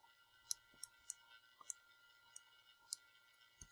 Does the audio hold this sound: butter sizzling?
no